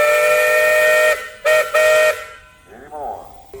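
Steam traction engine whistle at a steam and threshers festival in Michigan, a loud chord-like shriek in three blasts, a long one then two shorter, followed by distant outdoor crowd murmur.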